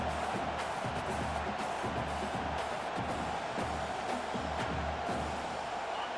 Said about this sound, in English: And this crowd is losing it, frenzied after the back-to-back sacks